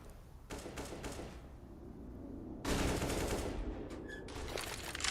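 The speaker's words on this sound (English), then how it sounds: "Tapson sprays through, nades up from Tapson." Automatic rifle spray in CS:GO on the Overpass map during a professional esports match, with bursts of rapid gunfire broken by short gaps, growing louder and denser in the second half.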